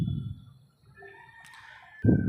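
A chicken gives a short cluck and a brief rising call, close and fairly quiet, with a soft low sound at the start and end.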